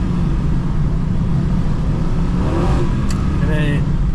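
A worn-out 1949 Chevy pickup truck engine revs steadily after downshifting into first gear. The engine drone is loud and constant throughout, with a faint rising whine near the end.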